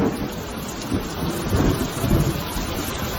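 Steady heavy rain pouring down with deep rumbling thunder rolling underneath, continuous and enveloping throughout.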